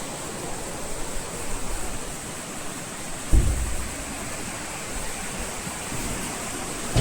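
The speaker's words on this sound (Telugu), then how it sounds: "ఫ్లో మాత్రం చాలా బాగుంది. కింద కాలువ చుట్టూ చెట్లతో మంచి గ్రీనరీ సూపర్గా ఉంది." Steady broadband rush of a stream flowing beneath an iron bridge in Maredumilli forest, Andhra Pradesh, heard continuously from nearby with one brief thump partway through and no talking.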